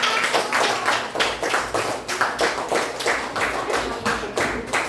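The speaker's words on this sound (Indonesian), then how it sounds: "beri tepuk tangan untuk kelompok" Steady applause from a class group, many hands clapping continuously at close range with a slightly rhythmic pulse, no talking.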